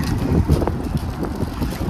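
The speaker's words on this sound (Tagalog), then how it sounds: "Windy lang siya." Gusty wind buffets the microphone outdoors on a cold, sunny day, a steady low rumble with soft swells throughout and no voices.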